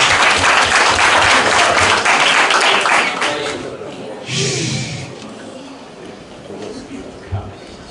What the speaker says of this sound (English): Round of applause for Maggie.